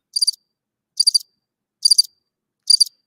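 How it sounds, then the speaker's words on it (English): Crickets chirp in four evenly spaced, shrill bursts, each a quick trill, against otherwise total silence. "crickets."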